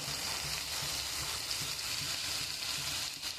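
Ground turmeric, coriander, cumin and chili powder frying in a pan for a fish curry, with a loud, continuous hissing sizzle and faint stirring, close up.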